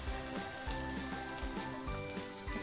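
Mutton with onion paste frying in a pan makes a continuous, fairly quiet sizzle with occasional soft stirring knocks, close up and with no talking.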